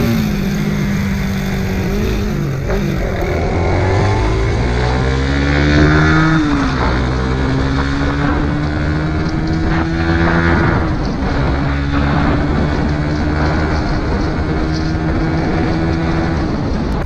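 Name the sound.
Honda Click motorcycle riding at high speed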